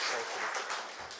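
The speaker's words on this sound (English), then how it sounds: "Let's clap for them." An audience at a mortician conference and exhibition applauding, a short, fairly faint patch of scattered clapping heard from a distance for just over a second.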